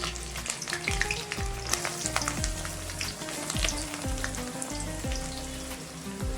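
Steady, loud sizzling of onions and garlic frying in a pan for dill leaf bhaji, with scraping stirs and repeated falling tonal sweeps of background music running throughout.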